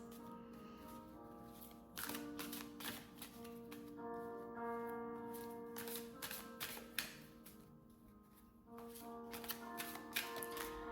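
Oracle cards being shuffled by hand, a run of soft papery riffles and taps with a steady hum and faint tonal bed underneath, quiet and close.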